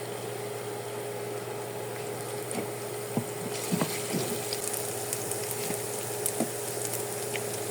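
Chopped garlic and ginger dropped into hot oil in a pan, giving a steady low sizzle with faint crackles and pops that rise a little partway through.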